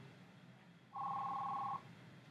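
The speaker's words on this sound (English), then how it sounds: "The phone is ringing, so I got sidetracked." A telephone rings once in a quiet room, a short steady electronic tone lasting under a second, clear and moderately close, alone without talk.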